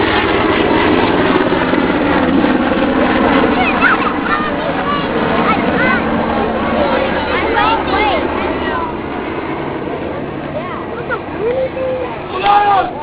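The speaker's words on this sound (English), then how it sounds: "look at that helicopter right there" A military battle helicopter drones overhead as a steady rumble running through the whole stretch, largely masked by lively voices and chatter from people nearby.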